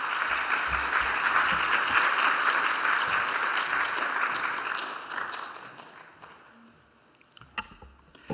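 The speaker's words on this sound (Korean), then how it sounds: "나오실 때 박수로 우리 환영하겠습니다." A church congregation applauding to welcome a speaker, a broad wash of clapping that swells, holds for several seconds and tapers off, followed by quieter room noise and a few knocks.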